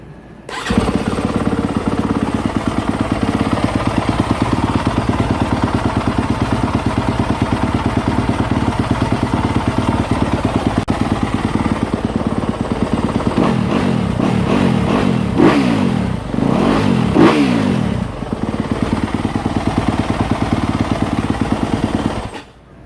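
A Yamaha YZ250F or YZ450F dirt bike engine fires up and idles loudly and steadily, then a burst of sharp throttle revs rises and falls near the end before it settles back.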